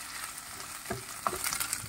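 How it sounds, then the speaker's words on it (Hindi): Finely chopped onions for chana masala sizzle softly in a hot pan, with quiet scraping stirs and occasional crackles over a steady frying hiss. "अब यहाँ पर हम जो बारीक कटी हुई प्याज है इसको डाल देंगे।"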